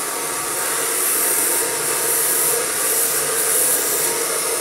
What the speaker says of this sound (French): Vous avez vu, mon sèche-cheveux,